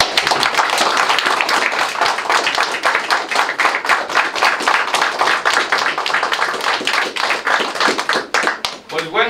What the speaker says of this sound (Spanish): Vamos a darles un fuerte aplauso a nuestros hermanos.